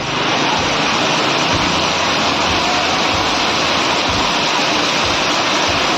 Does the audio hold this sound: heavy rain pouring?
yes